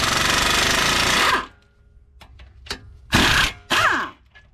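Impact gun rattling loose brake caliper bracket bolts on a 2011 Nissan Altima 2.5 SL, one long loud burst of hammering followed by a few short taps and two more quick bursts, close up with no talk.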